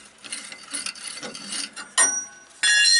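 A ratchet wrench clicks in quick bursts as it turns a seized shock absorber bolt, close and loud, finishing with two sharper metallic ringing clanks.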